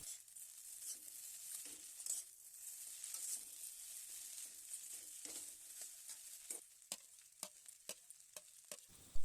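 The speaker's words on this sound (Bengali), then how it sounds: "কিছু সময় চাউমিনটা ভেজে নেব" Egg chowmein with capsicum and onion frying in a pan, a faint hiss broken by irregular spatula taps and scrapes that grow sharper and more frequent toward the end; no speech.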